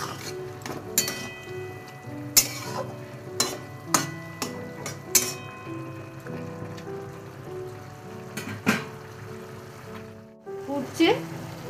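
A spoon stirs dates, cashews and raisins in a simmering pot, with scattered clinks and knocks against the metal. A person talks over the stirring.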